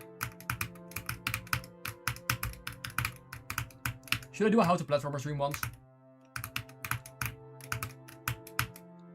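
Quick bursts of computer-keyboard typing patter close by, briefly interrupted in the middle by someone speaking before the rapid key clicks resume.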